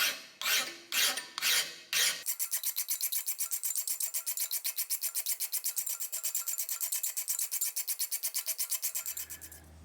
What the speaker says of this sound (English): I've got my single bevels roughed in with the coarse file